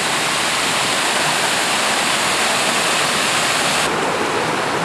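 Pringle Falls, a river waterfall in Oregon, roaring as a dense, constant rush of falling water, loud and close, with no voices over it.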